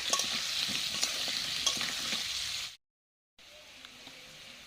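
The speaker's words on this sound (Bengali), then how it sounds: "দিয়ে আলুটা ভেজে নেব।" Potatoes with turmeric frying in oil, a close, even sizzle with light stirring clicks, then a brief cut to silence before the quieter frying resumes.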